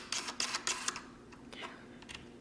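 A back optic is screwed into a Minolta Auto Bellows Rokkor 100mm f4 lens, giving a run of quiet, close clicks and scrapes, a cluster early on followed by softer, sparser ticks.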